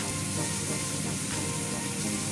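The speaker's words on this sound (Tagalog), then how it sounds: "stir-fry natin yung ating onion and garlic to fragrance" Garlic and sliced onion sizzling in melted butter in a pan, a steady dense crackling hiss that continues evenly throughout, close and fairly loud, with no talking.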